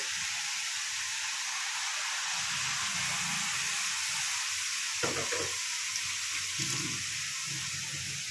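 Bottle gourd cooks in a hot pan after a little water goes in for a lau chingri dish, a steady bright hiss of sizzling with a few low bubbling, stirring bursts midway, no voices.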